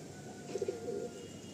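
Fancy tiger line pigeons coo once, a short, soft rolling coo close by over a low background hum.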